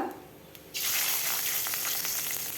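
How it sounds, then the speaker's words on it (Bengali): Nigella seeds and green chillies hit hot oil left from frying pomfret, bursting into a loud, steady sizzle after a quieter start and holding strong to the end. "ওই মাছ ভাজার তেলেই দিয়ে দিলাম কালো জিরে কাঁচা লঙ্কা"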